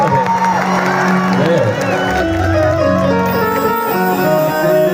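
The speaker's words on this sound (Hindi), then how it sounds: "एक बार तनी चारों तरफ से ताली बजा के आशीर्वाद दे दी" A loud crowd at a Chhath Puja stage show cheers and claps, with whoops and shouts rising over a continuous music-like drone.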